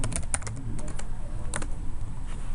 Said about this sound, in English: I'm going to type in the client's name